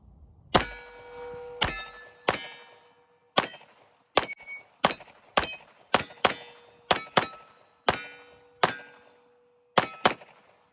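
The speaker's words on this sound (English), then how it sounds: "Let's keep shooting." A Smith & Wesson M&P Competitor HD steel-frame pistol fires a string of about a dozen shots at a steady, slightly uneven pace, each sharp report followed by the bright ring of steel targets decaying quickly.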